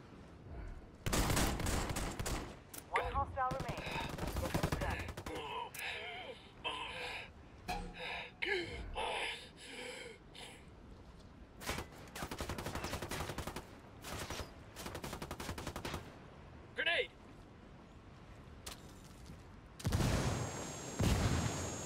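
Gunfire in a Ghost Recon Wildlands Ghost War PvP match on Xbox One, with dense, repeated volleys of loud automatic fire and sharp single shots. The firing comes in clusters with brief lulls over about twenty seconds.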